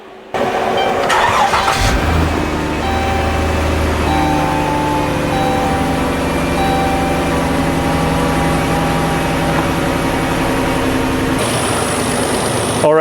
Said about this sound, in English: So now I'm gonna go in the vehicle and start the engine.